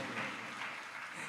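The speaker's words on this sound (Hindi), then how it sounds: "अब इसमें ताली बज गई।" Audience clapping during a Jain religious discourse, a brief dense wash of many hands applauding steadily, fairly soft and without speech.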